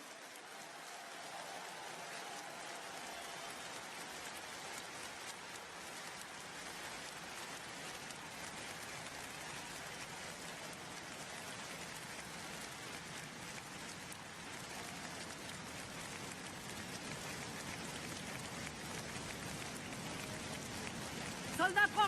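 A rally crowd in Lille applauds French soldiers, a steady dense wash of clapping that fills the hall at an even level, swelling slightly toward the end.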